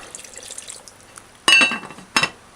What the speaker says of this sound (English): I'm gonna add 1/2 cup of water.